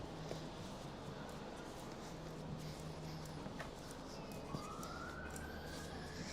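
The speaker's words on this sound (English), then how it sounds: "That sounds to me like an ambulance one." An ambulance siren passing outside, faint and distant, a wailing tone rising late in the clip over a steady indoor background hum.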